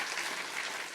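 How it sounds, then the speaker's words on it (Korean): A church congregation applauds its elders during a Sunday service, with a brief, dense wash of steady clapping, full and even throughout. "자, 박수해 주세요."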